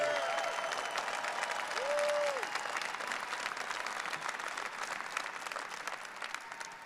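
Sustained audience applause fills a large hall at a shale industry conference, steady clapping from a big crowd that slowly tapers over several seconds.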